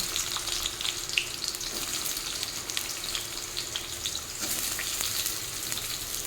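Chopped onion and pointed gourd fry in hot oil for a prawn, pumpkin and potato curry, producing a steady, bright sizzling crackle with small pops throughout and no voices.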